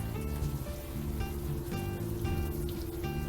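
Rain falls in the adventure video game Unavowed as a dense, even patter under looping musical tones, with no voices.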